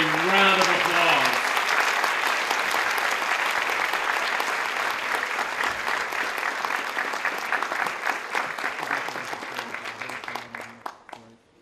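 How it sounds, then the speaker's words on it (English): An audience at a college honors convocation claps steadily for a group of honorees, a dense, sustained round of applause that carries on for about ten seconds before thinning out and fading near the end. "Let's give them a round of applause."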